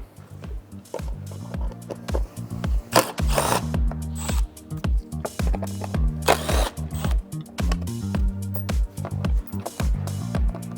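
Ratchet turning a T25 Torx bit to remove the under-tray bolts on a 2022 VW GTI Mk8, close rhythmic clicking in repeated quick bursts with short pauses and occasional rustling.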